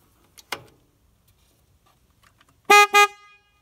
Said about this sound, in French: alors je vais faire marcher le klaxon